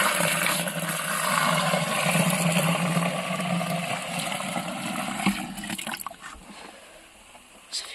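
Liquid plant manure pours from a bucket into a container in a gushing, splashing rush that stays loud for several seconds, then thins into trickles and drips.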